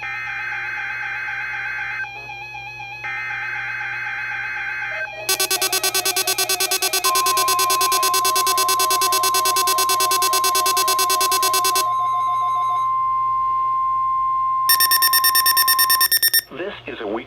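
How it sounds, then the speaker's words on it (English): A NOAA weather radio warning alarm sounds during a weekly test after a broadcast: alternating two-tone beeps, then a long loud steady tone, and a final burst of shrill data-like tones, all alone without talk. "this is a weekly test of the NOAA weather radio warning device."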